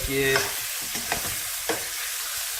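Venison and sausage browning in a pot over a wood fire, sizzling and frying steadily with a few sharp stirring scrapes and clinks, close and fairly loud with no talk.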